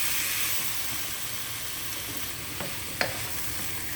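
Tomatoes cook in a pan for a Kerala-style egg curry as half a glass of hot water is added, giving a steady close sizzling hiss with a couple of faint clicks from the utensil.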